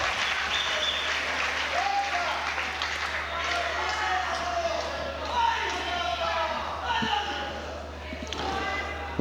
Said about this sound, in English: plenty of encouragement from the crowd, as you'd expect